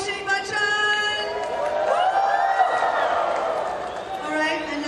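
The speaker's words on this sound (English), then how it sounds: "can we have a huge round of applause for Abhishek Bachchan?" An audience cheers and whoops for Abhishek Bachchan at an Omega watchmaking event, a sustained crowd roar with rising shouts, fairly loud and continuous.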